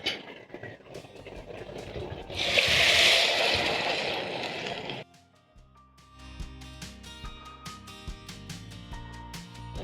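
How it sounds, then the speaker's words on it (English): Four cups of water gush and splash into a pot holding two cups of rice for a couple of seconds, followed by light clinks and quiet kitchen clatter. "I'm going to add in 4 cups of water because I'm cooking 2 cups of rice"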